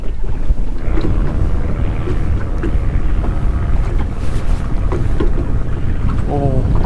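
Strong wind buffets the microphone on a small fishing boat, a loud rumbling roar with water sloshing against the hull underneath, steady throughout.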